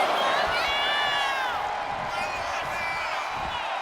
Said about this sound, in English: Look at Chyna taking in all the energy from the crowd.